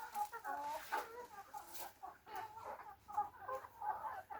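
Chickens cluck and murmur inside a coop, with a run of near, overlapping calls that rise and fall in irregular bursts.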